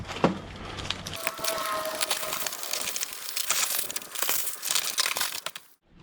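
Paper and cardboard wrapping is pulled off a disposable BBQ outdoors, giving close, fairly quiet crinkling, tearing and crumpling in irregular bursts throughout, with no voice.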